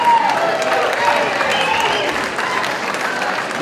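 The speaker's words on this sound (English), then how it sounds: "Thank you for your applause." Steady audience applause fills the whole stretch, a dense, even wash of many hands clapping in a storytelling and story-song performance setting, with faint voices mixed in and no pause.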